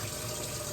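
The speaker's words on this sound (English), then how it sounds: "Let me wash my hands." Tap water runs in a steady, close gush over hands being washed, brief and continuous with no voices.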